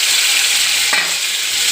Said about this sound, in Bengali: গরম হয়ে গেছে, উচ্ছেটা দিয়ে দিচ্ছি